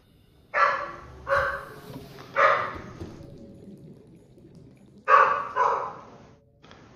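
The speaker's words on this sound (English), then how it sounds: "those are my dogs barking at my wife" Dogs bark from a room away in a loose series of five sharp woofs, two pairs and a single, with quiet gaps between them.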